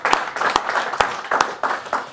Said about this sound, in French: Tout ceci mérite vraiment des applaudissements pour Erwan Leroux.